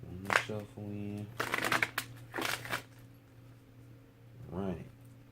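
Tarot cards riffle and slap together in a few quick bursts of shuffling, close to the microphone, with a voice speaking briefly between and over the card noise.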